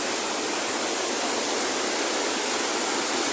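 Mountain streams and small waterfalls on the Sukil river in the Carpathians rush in a steady, even hiss of falling water, close and constant, with no voices.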